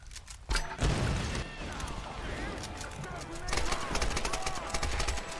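AK rifle gunfire in the video game Tomb Raider, sharp bursts of shots in close succession over game ambience, with heavier firing toward the end.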